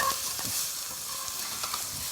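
Ginger slices frying in generous oil pooled in a tilted pan, a steady close sizzle with scattered crackles and stirring scrapes throughout, no talking.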